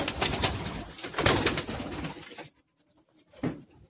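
Pigeons of an old Madrasi bloodline coo in a rooftop loft, close and fairly loud at first, with overlapping rumbling calls, then falling quiet before one more coo.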